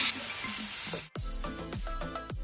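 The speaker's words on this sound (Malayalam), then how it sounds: "ഈ ഉള്ളി ഒന്ന് നന്നായിട്ട് വഴറ്റിയെടുക്കാം" Crushed small shallots hit hot oil in a pan for a Kerala-style brinjal dish, giving a steady bright sizzle and hiss that drops out briefly, then returns with spattering pops and clinks close by.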